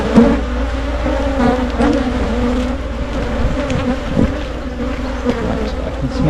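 A honey-producing honey bee colony packed with heavy honey stores gives a dense, steady buzzing hum, close and continuous throughout with slight swells in intensity.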